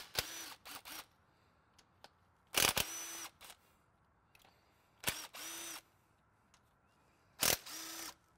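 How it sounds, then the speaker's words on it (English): Short, sharp bursts of a power tool spinning out injector hold-down bolts on a Detroit 60 Series diesel engine, repeating in four separate clusters with quiet pauses between them and no talking. "I'm gonna unbolt these hold down bolts"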